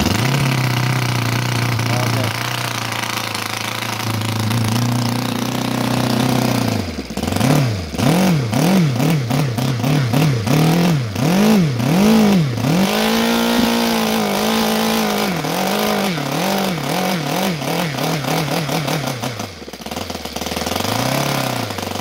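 A Saito FA182T model aircraft engine converted to gasoline with CDI ignition runs loudly and close, idling steadily before revving up and down in repeated surges, then settling back toward idle.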